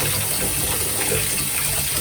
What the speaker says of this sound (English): So I'm filling the basin up.